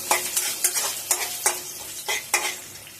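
Cumin seeds fry in a pan for jeera rice. A close, crackling sizzle is heard with a few sharp bursts as the seeds are stirred, and no one speaks.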